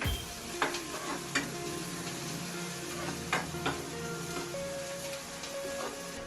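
Onion with green chili and ginger frying in a pan, a steady close sizzle with occasional sharp scrapes and clinks of stirring, no voices.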